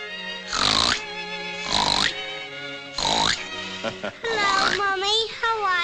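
A child imitates a pig, giving three loud, separate snorting oinks at regular intervals before breaking into excited vocal squeals, all close and clear.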